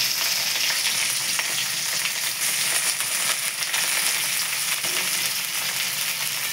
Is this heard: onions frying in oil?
yes